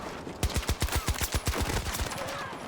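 Rapid automatic gunfire in the video game Battlefield 2042, a single tight burst of about a dozen evenly spaced, punchy shots close up, followed by a short ringing tail.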